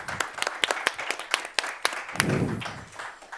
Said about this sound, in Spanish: Les pido un aplauso para nuestros panelistas.